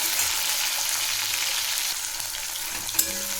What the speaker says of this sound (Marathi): हे वांगे टाकायचे आहे अगोदर पहिल्या चिरून याला पण छान परतून घ्यायचं आहे तेलात